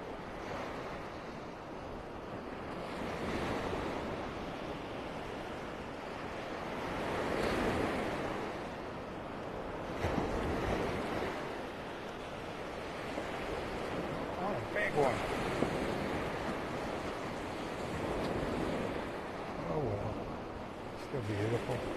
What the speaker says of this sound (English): Watching the waves and listening to them